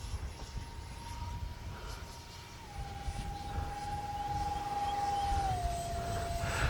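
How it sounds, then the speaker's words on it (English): Twin 40mm electric motors of an X-Fly F-22 Raptor RC jet give off a steady high whine that dips in pitch twice as the little plane flies overhead, moderately faint above wind and background rumble. "Those twin motors, they sound so good in this little plane."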